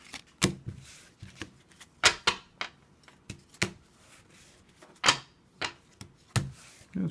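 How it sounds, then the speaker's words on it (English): Crisp riffling and snapping of playing cards being shuffled in repeated short bursts, close and fairly loud, with quiet gaps between. "Do some quick shuffling here."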